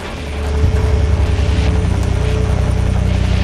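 A helicopter in Splinter Cell Blacklist lifts off from a chopper pad, its rotor drone swelling in the first half-second and then holding steady as a loud, continuous low thrum with a pulsing beat.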